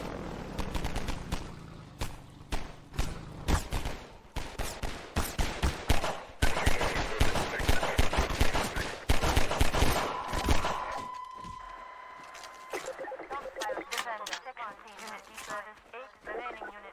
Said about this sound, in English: Oh no, there are some things shooting at me.